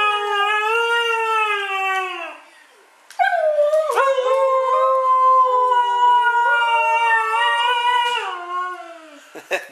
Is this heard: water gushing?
no